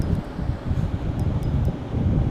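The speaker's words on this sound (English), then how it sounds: "Fishing in the wind." Wind gusting across Lake Norman during a fishing trip, a steady rough buffeting and rustle against the microphone with no other distinct sounds.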